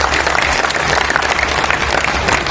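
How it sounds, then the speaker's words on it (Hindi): Loud, close applause from an audience at a kavi sammelan poetry gathering, thick continuous clapping with crowd murmur underneath. "तालियों से आप अपनी गारंटी दीजिए"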